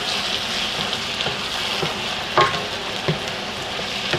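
Fresh tomatoes simmering and sizzling in a pot, a steady close crackle with a few soft stirring knocks, no voices.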